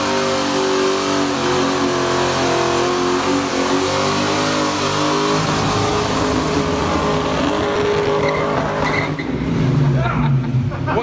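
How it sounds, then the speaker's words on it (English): Ford Mustang SN95 with a turbocharged LS engine doing a tire burnout: a loud, continuous roaring engine rev with screeching tire squeal throughout, engine pitch shifting near the end, and people's voices mixed into the noise. "if it's one thing it does burn out"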